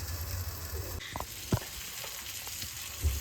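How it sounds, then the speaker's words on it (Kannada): Fish sizzles steadily in oil on a flat tava pan, a soft continuous frying hiss broken by a few sharper pops and crackles, with no one speaking. "ಫಿಶ್ಶು ಚೆನ್ನಾಗಿ ಫ್ರೈ ಆಗ್ತಾ ಇದೆ ನೋಡಿ"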